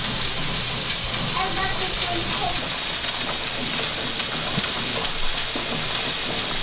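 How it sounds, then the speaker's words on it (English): A pressure canner with its jiggler weight hisses steadily with escaping steam, a loud continuous broadband rush lasting throughout, with faint voices in the background. "we're gonna wait, listen for the jiggle"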